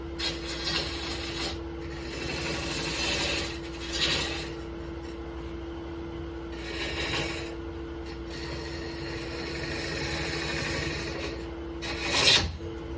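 Cutting with a half-inch swept-back tool makes a raspy scraping noise in several long bursts separated by quieter gaps, ending in a sharper, louder scrape, with no talking.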